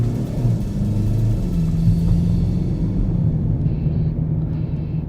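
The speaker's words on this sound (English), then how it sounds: "Let you hear the engine as I climb this hill." A BMW X4 in sport mode climbs a hill, its engine giving a steady, low, muffled rumble heard from inside the cabin, fairly loud and continuous with no talking.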